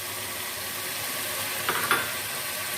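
Yogurt is stirred into meat and potatoes in a hot pot for aloo gosht, giving a steady loud sizzle with a couple of brief scraping stirs near the end and no talking.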